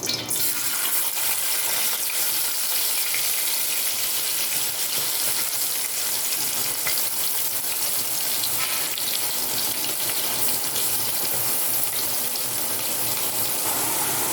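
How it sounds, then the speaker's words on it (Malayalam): Chopped onions frying in coconut oil mixed with leftover chicken-frying oil, a steady broadband sizzle that runs unbroken and fairly loud, with no voices. "എന്നിട്ട് നമുക്ക് നമ്മുടെ സവാള അരിഞ്ഞു വെച്ചിരിക്കുന്നത് ചേർത്ത് കൊടുക്കാം"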